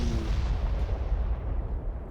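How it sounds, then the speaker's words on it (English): A loud, rumbling explosion in a Honkai Impact 3rd animation, a deep booming blast with a dense low roar that holds steady and fades slightly. "Quite the explosion."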